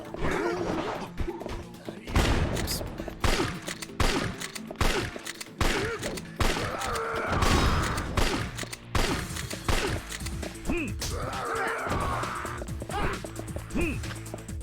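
Gunfire from armed enemies in Yakuza 3 Remastered, a dense run of shots, crashes and impact thuds with game music underneath, and someone talking over it at times.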